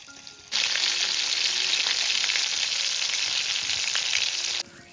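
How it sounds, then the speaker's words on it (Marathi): Pomfret fish shallow-frying in a pan for a crispy Konkan-style fry, a steady, loud, close sizzle that starts abruptly and continues evenly for about four seconds before dropping away. "पापलेट फ्राय."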